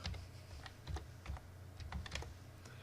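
Someone types a document name on a computer keyboard, a quiet, close run of irregular key taps and soft thumps with no talking.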